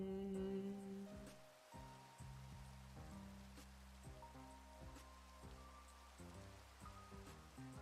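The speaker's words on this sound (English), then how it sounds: "Rain's terrible. We don't like the rain." Steady rain hiss from the video game Project Nope Zone runs throughout, beneath layered game music with stepped tones, at a moderate, even level with no talking.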